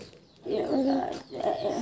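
A pigeon or dove near a house gives two soft, low coos, close and fairly clear, with a brief pause between them and no talk over them.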